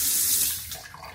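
Water running from a small shower in a luxury Scottsdale, Arizona home, sitting beside the laundry area: a steady, close hiss of spray that fades slightly toward the end, with no talking.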